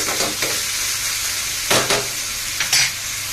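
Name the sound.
sautéing onion and tomato in pan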